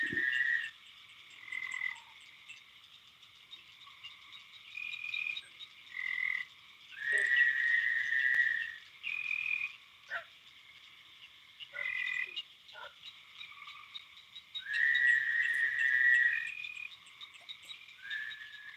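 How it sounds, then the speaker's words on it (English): Frogs croak at night near a catfish fishing spot. Repeated trilling calls from several frogs come in bursts of one to two seconds over a steady insect chorus, fairly close and with no talk. "Tell the frogs to shut up and somebody else squeaks up."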